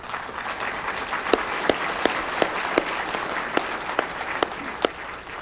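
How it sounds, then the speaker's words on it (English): Applause for standing Hall of Fame members at a 2004 NEAR ceremony, a faint, steady patter from a seated audience with a few sharper individual claps standing out. "I would like all of the members of the Hall of Fame who are here with us today to please stand to a round of applause."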